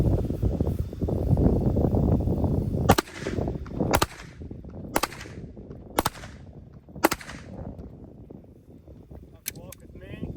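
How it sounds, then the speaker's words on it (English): A Gen 3 Glock pistol with a Shadow Systems slide, TLR-1 light and compensator fires about seven sharp, loud shots at uneven intervals, with a voice heard before the first shot. "next we'll be going over the Gen 3 Glock. It's got a TLR1 Streamlight, a Shadow System slide, radium ramjet, compensator, and barrel"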